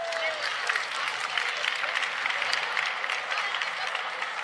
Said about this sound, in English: Give your partner a round of applause